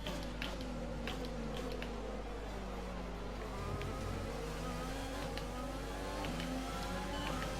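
A Formula 1 car in F1 2020, heavy with fuel on hard tyres, drones steadily with a high buzzing engine note that rises and falls through gear changes, continuous and fairly close.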